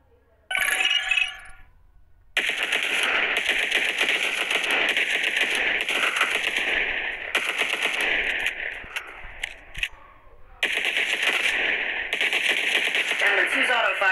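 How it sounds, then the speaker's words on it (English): An auto-firing weapon in the Cyber Hunter battle royale game shoots in long rapid bursts separated by brief silences, loud and close with a bright electronic edge. "All you need to do now is position your crosshair over the enemy to fire your weapon."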